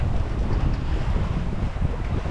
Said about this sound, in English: And wind's picked up a bit